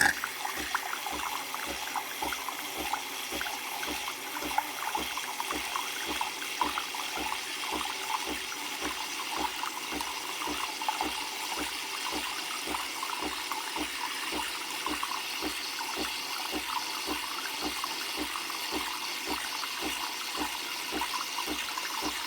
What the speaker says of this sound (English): I'm going to hold this button down. I got to keep it held down. Don't let up. You're going to let up when you've reached the right amount of froth.